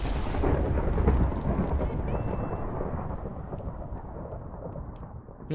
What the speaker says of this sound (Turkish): dışarıda bir yerde çaktı sanki şimşekler